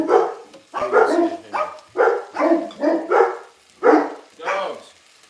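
Several dogs bark in repeated bursts in a home kitchen where Mongolian beef is being cooked, loud and close, with a person talking over and between the barks.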